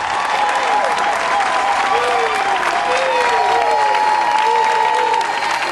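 A crowd at a Gabonese opposition party merger ceremony applauds loudly, a continuous wall of clapping mixed with cheering voices and whistle-like tones, steady and close throughout.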